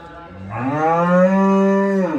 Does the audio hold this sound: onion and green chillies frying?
no